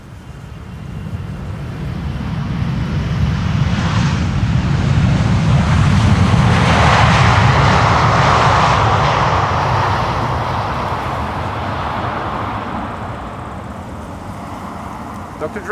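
A Boeing 777-300 airliner lands at Schiphol, a loud, broad roar that swells over several seconds, peaks mid-way, then slowly fades, with no voices over it.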